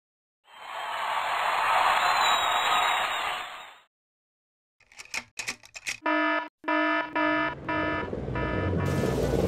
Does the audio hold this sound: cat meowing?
no